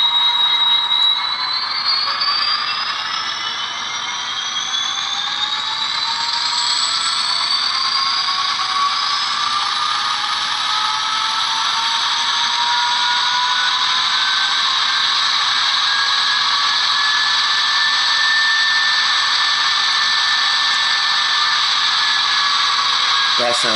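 A Rapido Metra F59PH model train locomotive's digital engine sound notches up, a continuous whining, rising drone with climbing tones. It is loud and steady for over twenty seconds.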